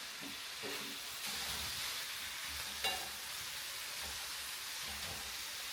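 Bacon from the freezer sizzles steadily in a pan with a constant crackling hiss, a few louder pops and spits standing out, and no talking over it.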